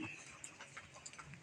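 Chickens on a farm in hot weather make faint, soft clucks and short calls scattered over a low background murmur.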